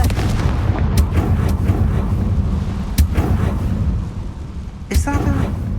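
The Confringo explosive spell in Hogwarts Legacy fires as several sharp, booming blasts over a dense rumbling game soundscape, loud and close, with a voice speaking briefly near the end.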